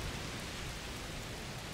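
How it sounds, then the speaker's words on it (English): Continuous downpour in A Plague Tale: Requiem, a constant broadband hiss of rain that stays level throughout, with no speech. "Oh, it's raining a lot."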